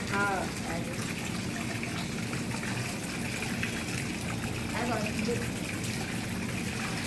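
Water splashes and gushes steadily throughout as a clay pot is washed out, with brief bits of voice near the start and middle.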